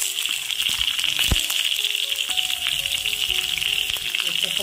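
Onions sautéing in a pan with fried chillies and curry leaves, giving a steady close sizzle with a bright hiss and a few soft clinks and stirring knocks throughout.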